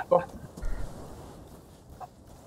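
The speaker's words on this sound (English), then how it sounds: "I've got chickens up here." Chickens in the pirate video game Sea of Thieves give a couple of faint, brief clucks, one near the start and another near the end, over a quiet background.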